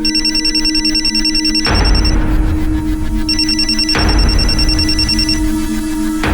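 A mobile phone ringtone plays loudly in repeating electronic bursts with short gaps between them, heard on its own with no talk over it.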